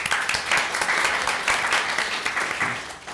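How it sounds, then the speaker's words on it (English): Audience at a school district board meeting breaks into steady applause, a dense wash of many hands clapping continuously and fairly loud throughout. "He's famous. He gets an applause."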